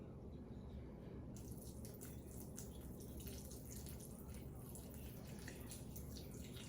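Water is poured into sourdough starter and flour to make a levain, a faint steady trickle with soft splashy texture, quiet and close, with no talking.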